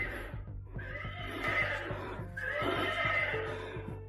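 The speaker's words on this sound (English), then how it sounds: "Is that your horse?" A toy horse neighs and whinnies in two long, bright bursts over a steady mechanical clicking rhythm, close and fairly loud.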